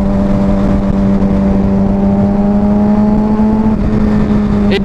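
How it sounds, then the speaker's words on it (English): Suzuki GSX-R 750 motorcycle engine drones loud and steady close by through a clutchless downshift, its pitch holding level before a slight change near the end. "I'll downshift so it's louder."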